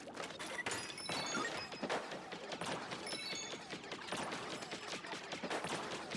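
Rapid bursts of cartoonish gunfire and impacts from the video game Splatoon Raiders, dense overlapping shots and splats continuing throughout at moderate volume.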